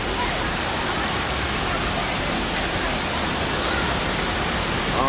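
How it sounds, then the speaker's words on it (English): Man-made waves churn in an indoor wave pool at Great Wolf Lodge, producing a dense, constant wash of rushing water that fills the space without letting up. "this is the waves, I guess the man-made tidal waves"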